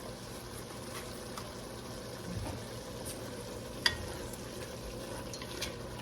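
Seasoning is stirred into dirty rice in a pan, producing a quiet, steady low sizzle and soft scraping, with one brief sharp clink of a utensil.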